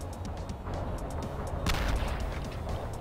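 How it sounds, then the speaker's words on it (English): Airstrike explosions in the Cortex Command video game: a continuous rumbling barrage of booms and blasts with a sharper, louder burst near the middle, dense and close throughout. "Airstrike inbound."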